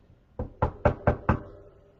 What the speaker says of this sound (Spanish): De repente se escucha en la puerta que alguien golpea.